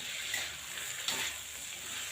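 Long beans frying with soy sauce in a pan, stirred around with a soft continuous sizzle and light scraping from the utensil, steady and close with no talking.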